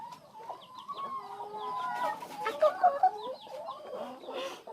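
Egg-laying hens cluck and chatter nearby in a busy, overlapping flock, with a few sharper squawks rising in the middle.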